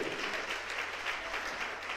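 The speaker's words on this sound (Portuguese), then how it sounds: "Você pode aplaudir ao Senhor?" Congregation clapping for the Lord during a sermon, a steady, fairly loud round of applause with a faint voice mixed in beneath it.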